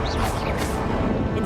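Confringo and Expelliarmus spells cast in Hogwarts Legacy: a loud, brief burst of crashing, whooshing magic impact filling a short moment.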